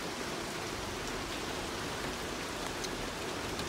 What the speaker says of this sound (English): all the plants we planted, in the ground need this rain